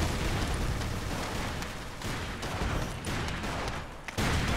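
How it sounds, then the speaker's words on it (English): A grenade explosion in the game Ace of Spades sounds as a loud, dense, rumbling blast that roars continuously and then cuts off abruptly before a fresh burst at the end. "Okay, I figured out how to use this grenade."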